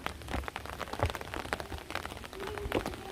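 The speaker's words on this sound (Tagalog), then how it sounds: "Ulan." Rain patters steadily on surfaces outdoors in Tochigi, Japan, as a soft, continuous spray of small drops with no voices.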